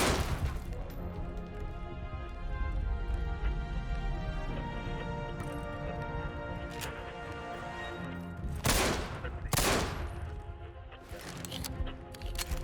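A 1911 .45 pistol firing in the Warsaw Uprising shooter Enemy Front, over dense battle noise and music, with a few sharp loud shots standing out near the end.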